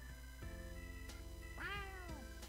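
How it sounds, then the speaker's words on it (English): A cat in Persona 4 Golden gives a single rising-then-falling meow, clear and close, set over a steady, sustained musical backdrop. "There's another cat here."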